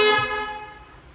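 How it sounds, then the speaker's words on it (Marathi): A Maruti Swift car horn sounds in one loud, bright honk that fades over about a second, with no talk over it. "हिचा हॉर्न भारी आहे, मला हिचा हॉर्न आवडते बघा"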